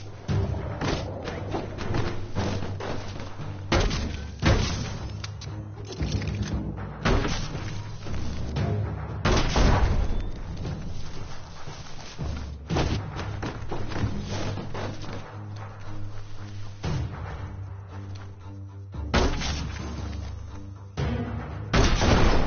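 Explosions booming in the Biomutant video game as an outpost is blown open, with repeated heavy thuds and blasts layered over a dense, continuous game soundtrack.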